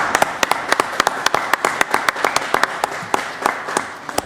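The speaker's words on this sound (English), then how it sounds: "Council, if you would have joined me in applauding them for all their efforts they come forward." A city council chamber fills with steady applause, a crowd clapping together in a dense, continuous patter of close hand claps that holds for a few seconds without any talk over it.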